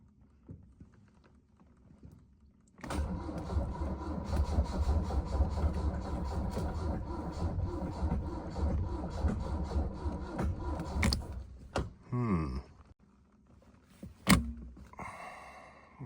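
A Mercedes W115 220D diesel engine cranks over for about eight seconds in a steady, dense churning rhythm, with brake cleaner sprayed into the pre-chamber and a second battery connected. It then cuts off, leaving a few short clicks and knocks.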